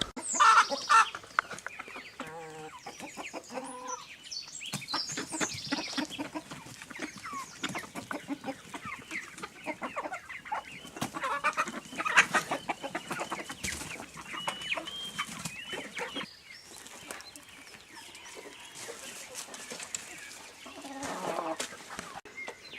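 Chickens on a rural property in Mexico cluck and chatter steadily throughout, with several birds close by making overlapping calls and occasional louder squawks, and no voices heard.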